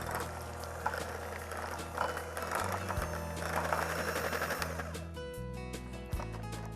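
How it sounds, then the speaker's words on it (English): Electric hand mixer whirring at close range as it blends Greek yogurt and cream cheese in a home kitchen, a steady motor drone with slight shifts in pitch as the beaters move, heard alone. "Then I'm gonna give it a quick mix with my hand mixer here."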